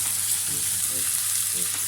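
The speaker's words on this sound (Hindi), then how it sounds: "अब इन सबको हाई फ्लेम पे पकाएंगे 2 से 3 मिनट।" Corn, peas, capsicum and other vegetables fry over a high flame for macaroni, giving a steady close hiss with a low hum and a few faint scraping stirs beneath it, no talking.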